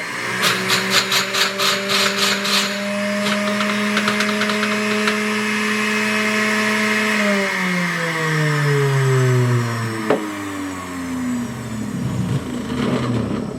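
A household juicer rattles loudly at first, then its motor drones at a steady pitch before winding down and slowing to a stop, with a brief knock near the end.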